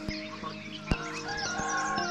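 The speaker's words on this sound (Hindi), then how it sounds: "मुर्गा भाग दे रहा है" A rooster crows faintly in the distance at dawn in a hill village near the Katarmal Sun Temple in Almora, mixed with other soft morning sounds.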